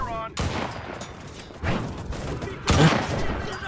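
Bursts of rapid gunfire in a shooter video game, with three loud volleys crackling close by, separated by short gaps over a low background rumble.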